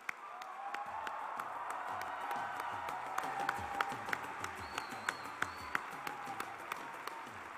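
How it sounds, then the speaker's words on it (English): Audience at an opening ceremony of a student skills conference gives sustained clapping and cheering for an honorary lifetime award recipient, a retiring community college president, with a steady roar of applause and a few sharp claps standing out near the end. "I want you to give this gentleman the biggest round of applause you possibly can"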